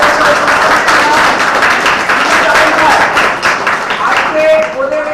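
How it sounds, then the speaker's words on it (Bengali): An audience at a Sukumar Ray memorial event claps loudly for three prize winners, a dense, continuous burst of applause at close range with voices mixed in. "জোরে করতালি দিয়ে"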